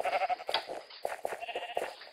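In a Minecraft Sheep Quest minigame, sheep let out short bleats in a rapid, overlapping burst, with quavering tones that sound close and clear and no talking.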